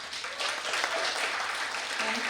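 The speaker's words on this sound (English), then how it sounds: "Please, a big applause for Paula." Brief burst of dense audience clapping at a World Tourism Day 2025 event, evenly sustained and moderately loud, with a voice faintly mixed in.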